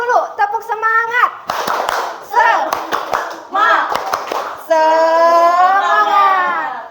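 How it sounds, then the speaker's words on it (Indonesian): A group of children and their leader doing a rhythmic spirit clap during a classroom ice-breaking session, sharp patterned hand claps in short bursts alternating with loud chanted voices, ending in a sustained shout. "Kita tepuk semangat dulu. Tepuk semangat."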